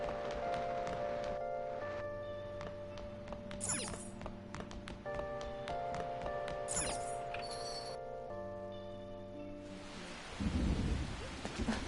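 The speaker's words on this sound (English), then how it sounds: "Oh, I love how you can hear the rain on the roof." Rain drums steadily on a roof in a video game, a continuous hiss beneath sustained tonal music, broken by scattered thumps, with a louder, rumbling swell of rain or thunder near the end and no talking.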